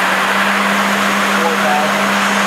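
A Mori Seiki NL2500MC lathe spindle runs at a steady 3600 RPM, giving a constant close mechanical whine with a single sustained tone over broad machine hiss.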